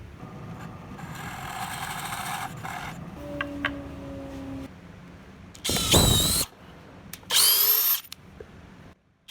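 A power drill bores into wood while threads are tapped for leveling feet on a router sled, with quiet fiddling noises first and then two short, loud whirring drill bursts close by.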